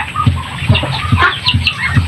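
Chickens clucking close by in a steady, rhythmic series of low clucks, with ducks and other bird chatter and scattered calls layered over them at feeding time.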